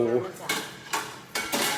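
Pots and dishes being washed clink and clatter in a few sharp, close metallic knocks spread over a couple of seconds.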